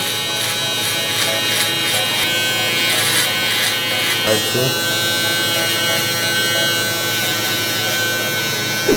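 A steady electric shaver buzz from an FX3 shaver runs throughout, close and fairly loud, during a mid fade haircut, with a brief spoken remark over it.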